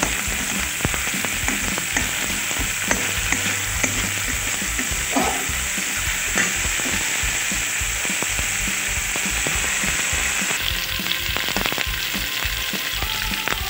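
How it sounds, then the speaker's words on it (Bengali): Green chillies fry in hot oil with a loud, continuous close sizzle, broken by scattered ticks and scraping stirs throughout. "এদিকে কাঁচা লঙ্কা দিয়ে দিলাম, কাঁচা লঙ্কাগুলো ভেজে নেব।"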